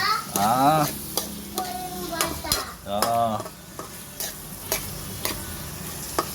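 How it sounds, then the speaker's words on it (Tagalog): Green peas are stirred in a hot frying pan for valenciana, with rhythmic scraping and clicks of a utensil over a steady sizzle, while someone speaks at intervals. "ilalagay ko na ang green peas. Yan. Halo-haloin lang."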